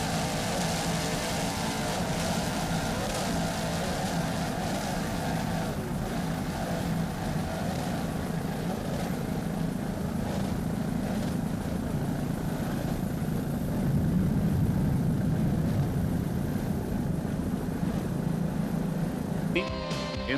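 Supercat Light outboard racing powerboats roar steadily during a race, a continuous loud engine drone from the water with no break.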